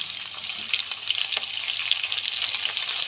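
Green chillies and tomatoes fry in a pan for Telangana-style khichdi, a steady, crackly hiss of sizzling oil heard close and alone.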